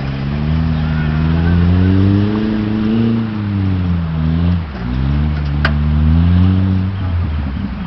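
A four-cylinder car engine drones and revs up and down with a strong, steady low growl, loud and close, the pitch swelling and dipping through several rises with a brief dip midway.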